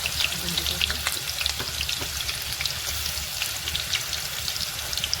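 Tomatoes added to fried onion sizzle steadily in a pan while being stirred for a mutton curry, a dense, constant crackle with scraping stir strokes up close.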